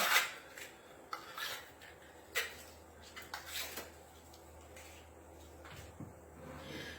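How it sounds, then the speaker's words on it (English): A butter knife scraping and notching pieces of food, heard as faint, close rasping scrapes and short strokes in irregular bursts with small taps, quiet room in the background. "use the butter knife to slightly scrape them and notch them out"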